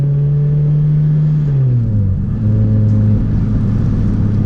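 Car engine droning while driving on flat-spotted tires, a loud steady hum from inside the cabin that drops in pitch as the engine eases off and then settles, with no talking.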